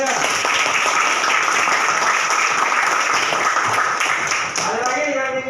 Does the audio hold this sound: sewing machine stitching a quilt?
no